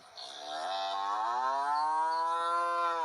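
Cattle in a farming video game let out a loud, drawn-out moo with a rising, wavering pitch, sustained for about three seconds, close and clear without any talk.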